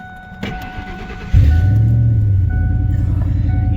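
A Ford F150 pickup's engine cranks and catches at about 1.4 seconds, then settles into a steady, loud idle close by, with a faint click and hum beforehand.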